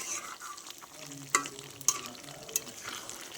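Mutton and whole garlic cloves stir-fried in a pan give off a steady soft sizzle, with a few sharp clinks of a spoon scraping the pan at irregular intervals.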